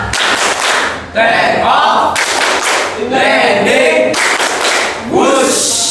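Classroom students perform a rhythmic clapping game, loud bursts of claps in patterned sequences with voices chanting along between phrases.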